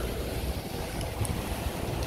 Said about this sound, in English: Oh, it's like super raining.